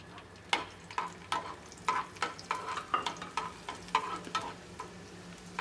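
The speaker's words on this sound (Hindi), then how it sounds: "ये मेल्ट हो जाए तो उसके बाद हम इसमें लहसुन शामिल करेंगे" Garlic sizzles in melted ghee for a masoor daal tadka, a steady soft frying hiss broken by regular stirring scrapes and clicks, close and moderately quiet.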